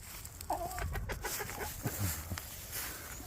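A round-headed hen clucks and chatters in soft, close bursts in a farmyard, with faint background noise and no talking.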